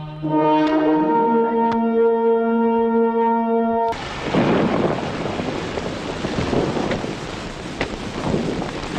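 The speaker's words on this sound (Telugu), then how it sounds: "అయ్యో మదర్, వర్షం." Steady heavy rain with rumbling thunder takes over abruptly after a few seconds of tonal music, a loud, continuous wash of downpour that fills the rest of the clip.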